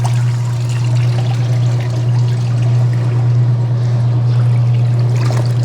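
Water draining out of a 65-year-old washing machine, a loud, steady pouring trickle over a strong constant motor hum, close and unbroken.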